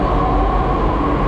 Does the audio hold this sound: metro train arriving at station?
yes